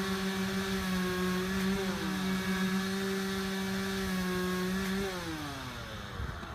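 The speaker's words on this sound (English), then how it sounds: "cue the weed whacker" A neighbour's weed whacker runs steadily nearby, a buzzy two-stroke drone holding pitch then dropping as the throttle eases off near the end.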